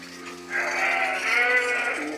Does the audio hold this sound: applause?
no